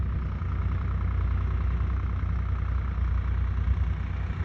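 A tractor engine idles continuously with a deep rumbling throb, steady and low, close by and unchanging, with no voices.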